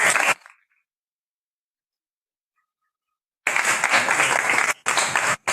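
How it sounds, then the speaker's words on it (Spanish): Audience at a university learning and development event breaks into applause, a burst of clapping that cuts off abruptly into silence before loud clapping resumes in separate bursts. "Un aplauso entonces para..."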